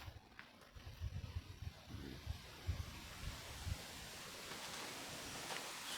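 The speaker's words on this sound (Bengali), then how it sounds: "আজকে অনেক বাতাস" Gusty wind blowing across the open bank of a village pond, a steady low rumble with buffeting swells and faint rustling throughout, no talk.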